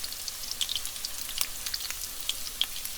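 Corn fritters sizzling in a pan, a steady close crackle with scattered sharp pops of frying oil, no voices.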